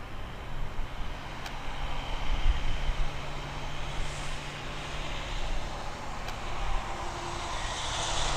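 An Embraer jet at Toronto Pearson Airport gives a continuous, moderately distant engine roar with a broad, steady rushing tone that slowly shifts, heard outdoors with no talking.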